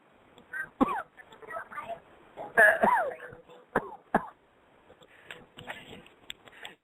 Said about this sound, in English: Guess he just called back in to cough.